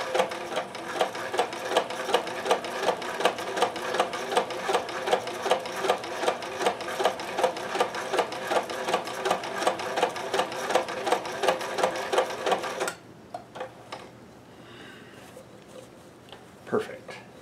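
A vintage Singer 431G or Kenmore 158 sewing machine chain stitching, a loud, fast, steady mechanical chatter of repeated needle strokes for about thirteen seconds before stopping abruptly into quiet room noise.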